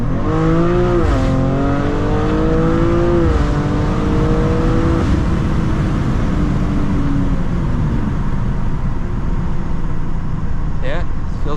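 BMW G87 M2 turbocharged engine fitted with Eventuri intakes and a RaceChip GTS Black tune, heard from inside as it revs up with rising then falling pitch and a loud steady drone while someone talks over it.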